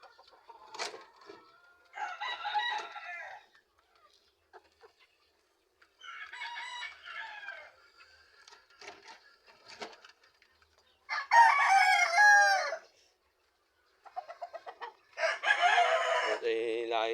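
Roosters crow in loud, drawn-out bursts while chickens cluck in short scattered phrases between them, with quiet gaps in between, all heard nearby in a backyard.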